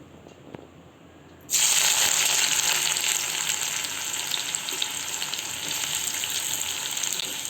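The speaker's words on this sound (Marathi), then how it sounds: "कढई घेतली आहे त्याच्यामध्ये तेल गरम करत ठेवलेलं आहे त्याच्यामध्ये आपण आता कांदा घालून घेऊ" A sudden loud sizzle erupts as onions hit hot oil in a kadai, then a dense, steady frying crackle continues close up without any talking.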